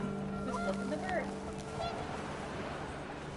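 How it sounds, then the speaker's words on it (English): Panicked geese in the video game What Remains of Edith Finch give a few quick nasal honks over wind-like game ambience, fairly faint and fading out within seconds. "The wind picked up, and panicked geese appeared and quickly went."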